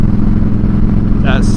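Harley-Davidson Fat Boy motorcycle cruising along, its engine giving a steady low rumble throughout while a voice talks over it.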